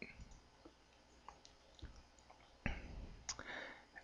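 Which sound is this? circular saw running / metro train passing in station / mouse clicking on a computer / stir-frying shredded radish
mouse clicking on a computer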